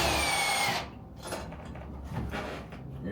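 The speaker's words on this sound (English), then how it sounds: "Take these screws out." A handheld power drill whirs loudly for under a second while backing screws out during a home light fixture installation, then stops, leaving quieter handling clunks and shuffling nearby.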